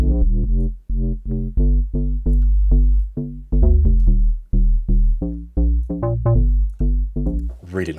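Synth bass made in Vital, a knob automated to reshape the tone: loud, choppy bass notes in a syncopated groove, heard alone and brightening toward the end.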